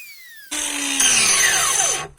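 A very small Chinese-made power tool with a small-diameter disc starts up abruptly and runs loudly at high speed for under two seconds, whining close by before cutting off.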